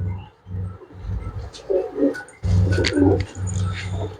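Flying pigeons kept for sale coo in low, throaty pulses, several overlapping bursts repeating in quick rhythm, close by, with no talk.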